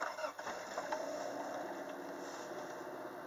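A 1984 Toyota Tercel 4WD SR5 engine idling after starting, a low steady faint hum with a brief louder bump at the start, no speech.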